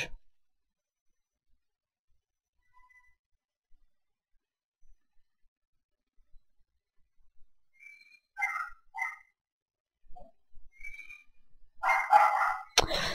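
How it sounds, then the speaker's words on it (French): A dog barks loudly at a distance in several short bursts after a long near-silent stretch, with a harsher, louder burst near the end. "Donc là, c'est mon chien qui gueule,"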